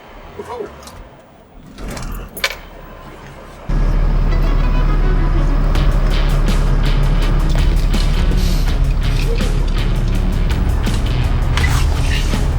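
An abandoned RV's engine turns over after a few clunks and quiet moments, then catches and settles into a loud, steady, close rumble that runs to the end, with voices nearby.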